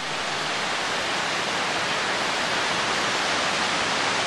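Water spills over the natural travertine dam at Band-e Amir in Bamyan, Afghanistan, a steady, loud, unbroken rushing roar that holds even throughout.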